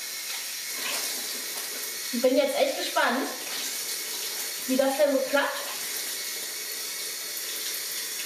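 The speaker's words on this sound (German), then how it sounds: "Nehmen wir ein bisschen warmes Wasser." Warm water runs from a bathroom tap in two bursts of splashing and gurgling as hands are rinsed under it, close by, while someone talks over a soft background hiss.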